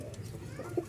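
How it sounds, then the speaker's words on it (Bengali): Top Koleti pigeons coo softly in a brief, low murmur up close, with a slightly louder coo near the end. "এখানে আরও এক জোড়া কবুতর আছে, এটারও ডাক মাশাআল্লাহ, এই যে দেখেন শুরু হবে।"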